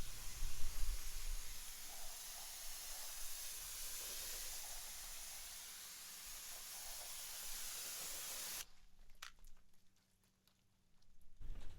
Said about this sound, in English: we're going to come in and rinse all the soap off the vehicle